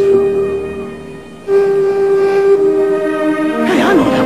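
A steady, tonal whistle blast holds for several seconds, swelling louder partway through, with a brief voice-like warble near the end.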